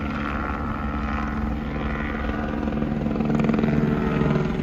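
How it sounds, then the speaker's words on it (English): A loud helicopter drones steadily as it circles over a cemetery, its rotor thrum filling the air and swelling slightly toward the end. "The helicopter is just circling the cemetery right now."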